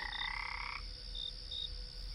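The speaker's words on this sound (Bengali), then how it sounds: "চারিদিকে ব্যাঙ ডাকছে।" Frogs croak at night in a steady chorus. Repeated pulsing calls sound over a constant low background hum, and no one speaks.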